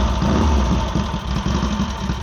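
Triumph show motorcycle engine idling while warming up after a kick start, a steady close, loud mid-pitched rumble with an even pulsing beat, no talk.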